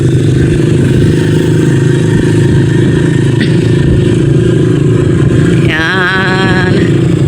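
Tricycle motorcycle engine droning loud and steady throughout a ride, with road clatter and a brief higher whine near the end.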